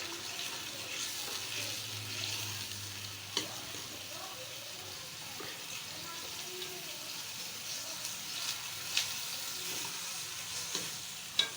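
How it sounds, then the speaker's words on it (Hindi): Onions fry in a cup of oil on a stove, a fairly quiet, steady sizzling hiss with a few faint clicks and knocks scattered through it, no voices. "ये प्याज उसमें डाल दूँगा और इनको चूल्हे पे गरम कर लूँगा, अच्छे तरीके से फ्राई कर लूँगा"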